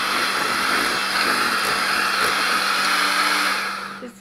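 Electric mixer running steadily on half a cup of softened butter for carrot cake, a continuous loud whirring motor drone that holds level throughout and eases off at the very end.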